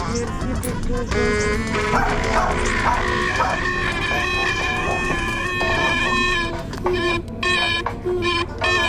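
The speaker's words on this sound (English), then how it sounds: "Yeah, bark, bark, bark." A dog barks and yips repeatedly, loud and close, in a continuous run of barking, with a person talking in between the barks.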